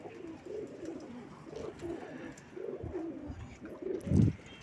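Pigeons coo softly and repeatedly inside a pigeon loft, with overlapping low throaty calls close by and a brief louder flutter near the end.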